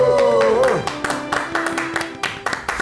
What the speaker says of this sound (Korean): 큰 박수로 모시도록 하죠